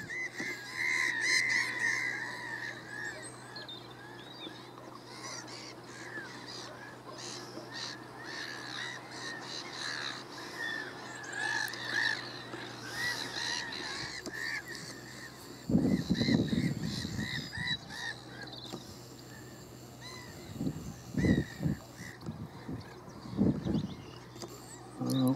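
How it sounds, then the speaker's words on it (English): Distant gulls and Canada geese call over a steady outdoor marina ambience, with a few louder honking bursts near the end against a low constant hum. "Nice little area for the old gulls and canada geese nesting."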